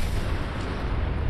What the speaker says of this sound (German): Das sind Explosionen.